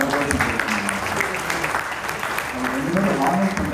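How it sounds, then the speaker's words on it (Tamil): Audience applause at a Carnatic music event, a steady broad clapping from a crowd that holds at an even level throughout with a faint voice underneath. "ஒரு பெரிய கரகோஷம்"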